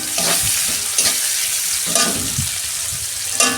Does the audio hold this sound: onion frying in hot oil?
yes